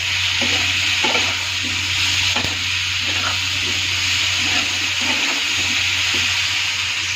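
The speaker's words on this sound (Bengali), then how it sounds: "ভালো করে নেড়ে চেড়ে" Food being stirred in a hot pan, a constant sizzle with a low hum beneath and repeated soft scraping strokes at an uneven rhythm, with no voices present.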